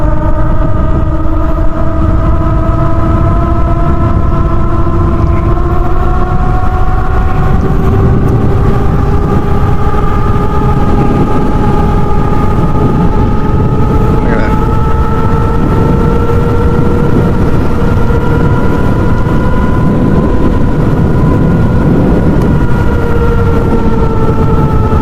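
A Happyrun G300 PRO electric dirt bike riding at a steady pace, its motor giving a sustained whine that rises slowly in pitch over a loud rush of wind and road noise, with no talking.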